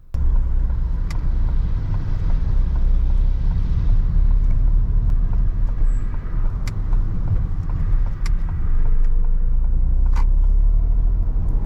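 A car pulls over to the left and stops during a UK mock driving test, its engine a steady close rumble with interior noise and a few faint clicks throughout.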